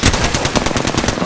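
Rapid automatic gunfire in an Apex Legends-style shooter game, a fast, loud, evenly spaced burst of shots rattling close by for just over a second.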